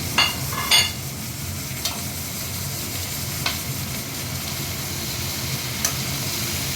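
Four chopped tomatoes stir and sizzle in a pan for a sweet-and-sour vegetable sabji: a steady fry hiss with a couple of sharp spoon clinks early on and faint scrapes after. No one speaks.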